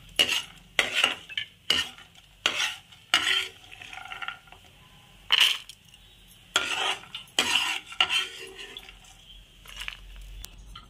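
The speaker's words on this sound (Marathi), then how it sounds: "चांगली भाजून झालेली आहे, ती आता मी डिशमध्ये काढत आहे।" Roasted curry leaves being scooped out of a pan into a dish, a series of sharp metallic scrapes and clinks of a spoon against the pan in irregular bursts, close and fairly loud.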